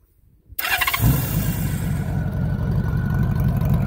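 A 1998 Honda Valkyrie six-cylinder motorcycle cranks after a moment of near silence, catches loudly and settles straight into a deep, steady, rumbling idle close by.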